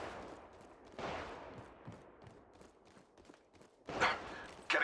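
Gunfire in Apex Legends Mobile, a spread of scattered shots with louder bursts near the end, under game voice lines.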